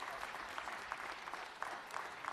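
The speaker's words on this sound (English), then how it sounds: "Let's give him a round of applause." Applause from a legislative audience in the Georgia Senate chamber during a special session, a steady patter of clapping hands lasting a couple of seconds, moderately distant and unbroken by speech.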